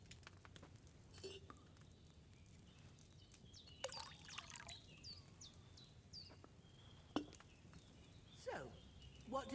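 Wine poured from a pitcher into a cauldron in Kingdom Come: Deliverance II, a faint trickling pour amid quiet game ambience with soft clinks and a few distant bird-like chirps.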